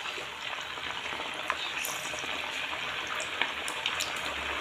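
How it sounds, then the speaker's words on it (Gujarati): Sabudana and potato vadas sizzling in hot oil over a low flame, a steady bubbling hiss with small scattered pops and crackles, close and even throughout. "પહેલાં વડા તરી લેશું."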